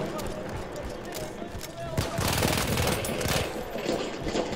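A Battlefield 1 gun firing rapidly in a fast continuous stream of shots, growing louder partway through, with a person talking over the gunfire.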